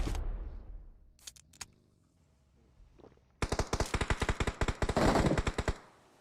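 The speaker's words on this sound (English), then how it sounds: "You can hear the Scar L's going off in the distance." SCAR-L rifle fire in a competitive video game match, a rapid automatic burst of sharp cracks in quick rhythm following quieter clicks and scattered shots, moderately loud and fairly distant-sounding.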